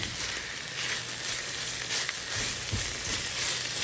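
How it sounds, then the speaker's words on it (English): Garlic sautéing in a pot for one-pot chicken gnocchi soup gives a continuous, close, even sizzle and crackle, with faint stirring underneath and no talking. "We're going to saute that for just about 30 seconds, making sure that the garlic doesn't burn."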